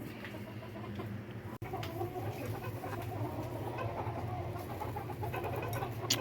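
Young chicks settled in a brooder box for the night make soft, scattered clucks and peeps over a steady low background hum, faint and continuous throughout.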